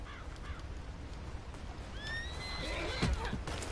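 A horse whinnies in a rising, wavering neigh midway through, in the video game Red Dead Redemption 2 Online, heard over a dense, steady background rumble with a few faint thuds.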